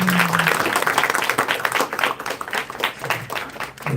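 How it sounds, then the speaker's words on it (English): Loud, close audience applause for Krishna Maharaj at a spiritual evening gathering, a dense crowd clapping steadily with slight swells, a brief tone audible near the start. "please give a big round of applause to Krishna Maharaj"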